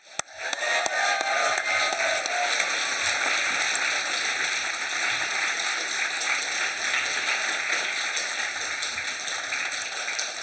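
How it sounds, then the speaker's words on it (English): An audience at an awards ceremony applauds a presenter with steady, dense clapping that stays fairly even throughout, heard from within the room. "Please, a round of applause for Lindsay."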